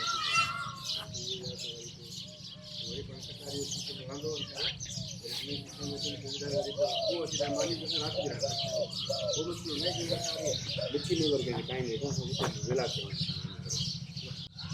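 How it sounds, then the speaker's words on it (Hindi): Pigeons coo repeatedly alongside chirping sparrows, a busy, continuous chorus of bird calls with some background voices, in a village in Thar, Sindh. "ऐं कबूतर, पारेल कबूतर उहे बि आहिनि, झिरकियूं बि आहिनि।"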